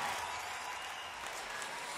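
Audience applause at a live concert in the Dolby Theatre, a dense, steady wash of clapping from a large crowd, continuous and even in loudness with no voices standing out.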